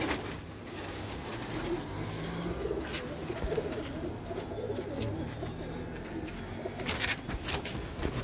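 Pigeons, among them a black one, coo softly amid a busy loft with faint rustling and background noise, the calls low and indistinct, with no clear talk over them.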